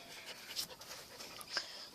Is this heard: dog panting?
yes